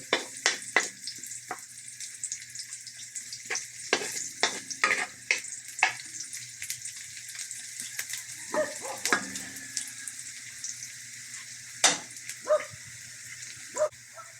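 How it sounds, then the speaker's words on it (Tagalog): Garlic frying in a pan for shrimp chop suey, a light hiss broken by frequent sharp crackles and spoon scrapes at irregular intervals, fairly quiet and close, with no talking. "Hintayin lang natin mag konting brown kung bawang."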